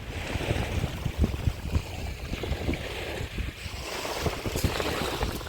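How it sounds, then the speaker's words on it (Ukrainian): Sea surf washing onto a quiet, near-empty beach in Kemer, Turkey in October, a steady broadband wash with irregular splashes and some wind, no talking. "Прийшли на море пляж уже поруч Олімпос Біч Отель."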